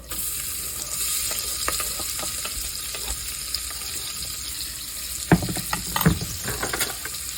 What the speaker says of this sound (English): I'm gonna let this bacon brown just a bit, and then we're gonna add our onion